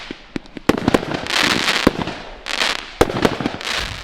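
Great Ambition consumer fireworks for a Fourth of July celebration go off in a rapid series of sharp, loud blasts and crackling bursts, some overlapping into sustained sizzling roars between the individual bangs.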